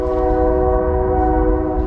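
A train horn blows in one long, steady, loud blast close by, near a fishing spot after a Texas snowstorm.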